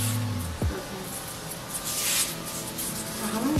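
A cooking oil spray bottle in a home kitchen gives one short, soft hiss near the middle, amid faint handling clatter and a dull background.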